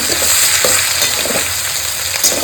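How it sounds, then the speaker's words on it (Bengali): Eight large onions sizzle in a pan with meat, browning until reddish: a loud, dense, steady frying hiss with faint stirring scrapes throughout, no voices. "দেখো পেঁয়াজ লালচে লালচে করে ভাজা হয়ে গেছে"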